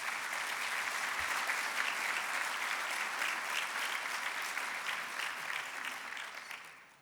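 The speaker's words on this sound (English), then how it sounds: "Please give a round of applause for Mr. Collier and Mr. Levitt, everyone." An audience applauds steadily at a State of the City speech in Fullerton, a dense, sustained clapping from a large crowd that fades slightly toward the end.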